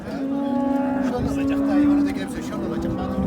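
A calf at a livestock market in Kırşehir lets out a long, loud, drawn-out moo close by, with market noise and background voices underneath throughout.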